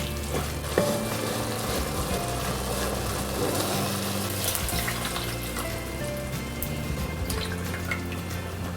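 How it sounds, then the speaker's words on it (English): Stock is ladled into simmering risotto rice, bringing a steady sizzle and bubbling with occasional drips, splashes and stirring sounds, close and continuous. "we ladle it in a little bit at a time so that rice can fully absorb"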